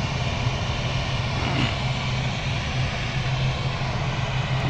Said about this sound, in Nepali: कुनै जहाजहरू चाहिँ यहाँ इकोबाट चाहिँ रनवेको साउथ साइडपट्टिको टर्न प्याडमा गएर चाहिँ टेकअप गर्छ।